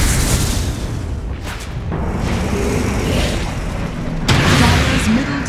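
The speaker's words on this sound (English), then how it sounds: "Dire's middle tower has fallen." Dire's middle tower crumbling in Dota 2, heavy booming blasts and rumbling crashes, loud and close with a sharp burst near the end amid dense game noise.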